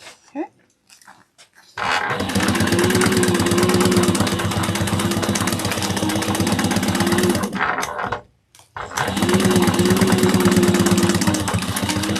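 A sewing machine sews sling bag pieces together in loud, close, continuous motor runs with a steady rapid needle rhythm, broken by a short pause before it starts again.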